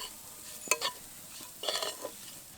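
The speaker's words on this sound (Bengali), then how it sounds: "খোয়া ক্ষীরটা নাড়তে নাড়তে এর মধ্যে দিয়ে দেব এলাচ গুঁড়ো।" Khoya kheer being stirred in a pan with cashews and cardamom powder, giving two short bursts of scraping and soft sizzle against a quiet background, close and fairly faint.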